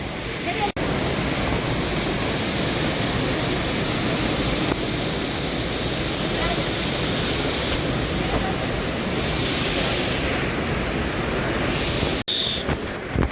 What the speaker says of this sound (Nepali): यो डेभिस फल हो डेभिस फल यहाँबाट हराउँछ